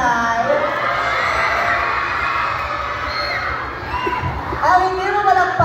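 A crowd at a Pride costume parade cheers and shouts continuously at close range, with whoops and excited voices layered over a steady roar of noise.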